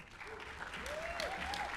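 Audience applause at an awards ceremony, a steady wash of clapping sustained throughout with a faint whistle-like tone gliding above it.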